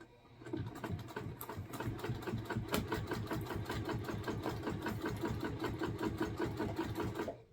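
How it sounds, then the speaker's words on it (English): A sewing machine runs top stitching at a 4mm stitch length on a vinyl bag, a close, loud, continuous rapid mechanical whirr with an even stitching rhythm, heard alone. "I am doing the top stitching at a 4mm stitch length."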